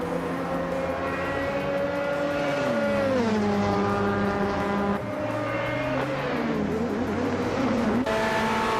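A 2014 Ligier JS P2 Nissan prototype in a racing game drones at high revs, its harmonic engine note sweeping down and back up through gear changes and throttle lifts, loud and continuous with no voices.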